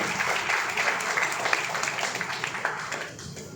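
Loud applause from an audience at a school ceremony honouring SSC topper students, welcoming a student to the stage: a dense, steady wash of clapping that fades slightly near the end.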